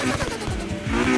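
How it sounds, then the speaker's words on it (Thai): A single-turbo Honda Civic Type-R engine in the Need for Speed Heat video game revs hard and steadily through a short, loud, continuous burst with no voices. "เสียงมันจะค่อนข้างจัดจ้านนิดหนึ่งนะเทอร์โบ"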